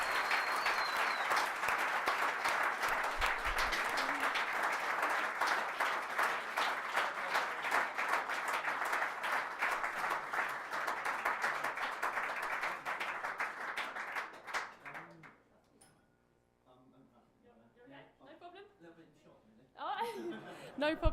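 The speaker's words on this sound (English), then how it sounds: "Can everyone give a round of applause?" Audience applause for Dan Thomas, winner of the Most Valuable Person award at the Coach Core Awards 2022: a dense, sustained round of clapping lasting about fifteen seconds, then fading to quiet before a brief burst of cheering and voices at the end.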